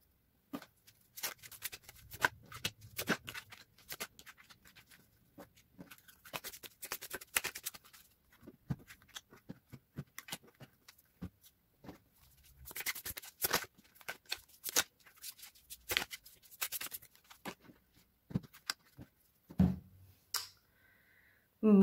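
Tarot cards being shuffled by hand, a run of soft papery riffles and flicks in irregular bursts, close and quiet with short pauses between handfuls.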